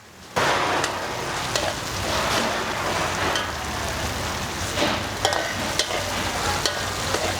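Vegetarian green beans with curry paste stir-fry in a hot pan with a loud, continuous close sizzle, broken by occasional sharp scrapes and clacks of a spatula against the pan.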